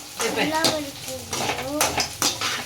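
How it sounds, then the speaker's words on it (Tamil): Spices, pepper and grated coconut are sautéed in a pan for a Tamil-style chicken fry, with a spoon scraping and clinking against the metal in a continuous stir while a voice talks throughout. "நல்லா வணக்கிக்கணும்"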